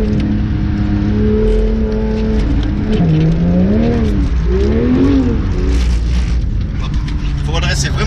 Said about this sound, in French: Voilà, sur une Porsche GT3, 475 chevaux.